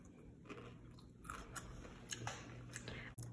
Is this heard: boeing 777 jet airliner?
no